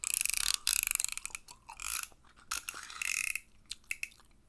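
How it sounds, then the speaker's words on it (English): A sharp X-Acto knife, the kind used as a cardboard cutter, is handled up close. It makes crisp ratcheting clicks in short bursts separated by brief quiet gaps. "And I got an X-Acto knife, cardboard cutter, whatever you want to call it."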